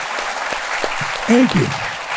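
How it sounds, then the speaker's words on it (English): Audience applause at a live event in Miami fills the room steadily, a broad sustained wash of clapping with a voice speaking briefly over it near the end. "I appreciate your applause"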